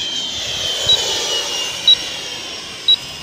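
A Freewing F/A-18E radio-controlled electric jet running on a 3S battery passes overhead with a steady, airy ducted-fan whine and hiss that holds throughout at moderate distance, with three faint short beeps spaced evenly.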